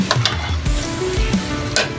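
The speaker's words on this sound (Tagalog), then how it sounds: "Ayan, ilagay na yung bok choy." Bok choy stir-frying in a pan with chicken and tofu, a steady sizzle broken by scraping stirs and a few sharp clinks of the utensil, close and fairly loud, with no talking.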